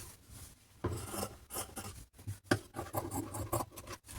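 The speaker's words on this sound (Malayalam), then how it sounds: "ഇനി ഇതിൻ്റെ ഉൾവശത്ത് നിൽക്കുന്ന ക്ലോത്ത് നമുക്ക് കട്ട് ചെയ്ത് കളയാം" Scissors cut away the inner fabric of a sewn top, making irregular rasping snips and rubbing scrapes up close in quick succession, with no talk over them.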